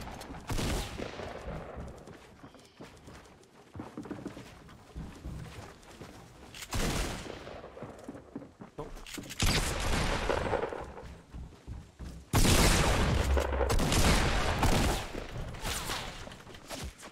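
Gunfire in the video game Fortnite comes in repeated loud bursts and rattling volleys across the stretch, the heaviest barrage arriving near the end.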